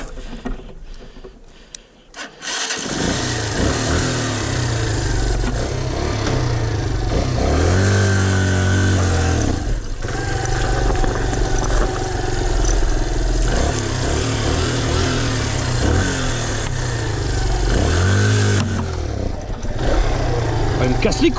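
Zongshen motorcycle engine fitted with a new carburetor starts after a brief quiet moment and then runs loud and steady nearby, with occasional revs, while people talk over it.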